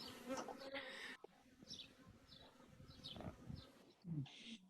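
Honey bees fan at the hive entrance as a swarm moves in, a faint, continuous buzzing hum with individual bees droning past close by, in a quiet outdoor setting.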